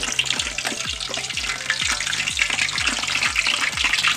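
A whole pig lowered skin side down into a large wok of hot oil sizzles and bubbles loudly, with a continuous dense crackle and gurgling rolling steadily throughout.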